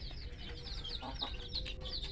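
Chickens in a backyard coop of nine hens and one rooster with chicks cluck and chirp in short, irregular bursts, moderately close over a steady low background hum.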